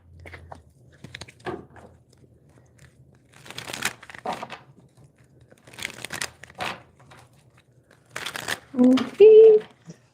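Tarot cards are handled and put away close by: crinkly shuffling, rustling and soft clacks in intermittent bursts, with a voice briefly heard near the end.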